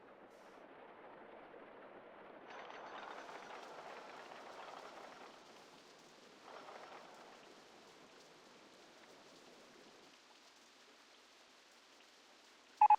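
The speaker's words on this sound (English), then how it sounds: "Sorry that it started raining." Rain in the RollerCoaster Tycoon Classic game patters softly as a faint, steady hiss, with louder bursts swelling twice before easing, then a sharp short tone at the very end.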